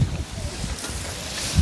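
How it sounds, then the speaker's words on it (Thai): Wind blowing outdoors, a rough broadband rush with low rumbling gusts hitting the microphone, steady for under two seconds with gusts swelling at the start and end. "ลมแท้นี่เนาะ"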